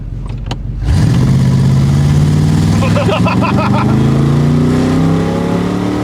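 A modified Corvette C3 engine starts up and revs loudly, its deep resonant exhaust note climbing steadily and holding at high volume close by, with no talk over it.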